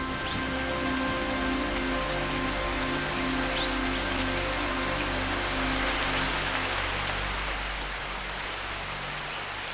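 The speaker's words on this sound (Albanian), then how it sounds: "Brenda pyllit, shiu e ka rizgjuar jetën." Heavy monsoon rain pours steadily over a lush tropical forest, a dense, even roar of falling water that fills the whole scene without pause, with no voices.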